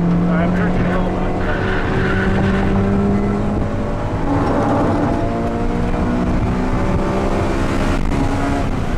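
A race car accelerates hard around the CTMP track during a school session. Its engine is loud and close, with a rising whine and gear changes, and a coach's voice is partly heard over the roar.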